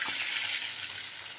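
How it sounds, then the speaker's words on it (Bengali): Eggs fry in a pan, cooked until crisp, giving a steady, fairly loud sizzle with no voices. "ডিমটা একটু কড়া করে ভাজলাম।"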